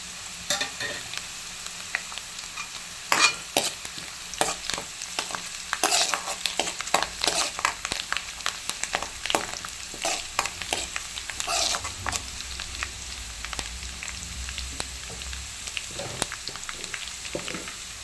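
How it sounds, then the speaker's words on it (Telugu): Curry leaves and green chilies frying in hot oil, a steady crackling sizzle broken by sharp pops and occasional stirring scrapes, close up with no talking. "ఇప్పుడు కరివేపాకు, పచ్చిమిర్చి వేద్దాము"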